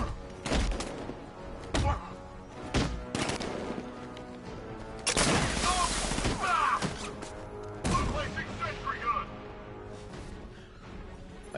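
Gunfire from a sentry gun in the Batman Arkham Knight video game: sharp separate shots early on, then louder sustained bursts of rapid fire with crashing impacts, fading into a quieter tail.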